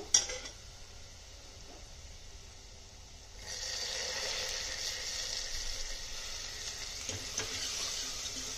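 Steady sizzling in a pot while frying ingredients for one-pot dal rasam, a soft hiss that jumps louder partway through as more goes into the pan and then sputters on evenly with no voices.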